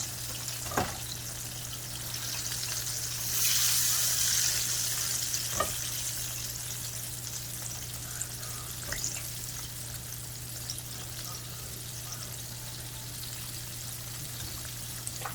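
Chicken strips and party wings fry in hot oil with a steady, even crackle and hiss, a louder bubbling surge briefly, and occasional light clicks of utensils, with no talking.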